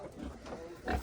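Village sow grunting nearby, a few short low snorts ending in a louder grunt.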